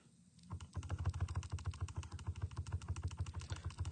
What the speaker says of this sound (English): So I type in to my calculator x squared minus